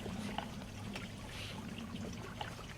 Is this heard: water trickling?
yes